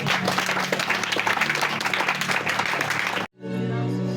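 A church congregation applauds and cheers for the Lord during a French-language worship service, a dense, loud wash of clapping and crowd voices that cuts off sharply, then gives way to a sustained tone.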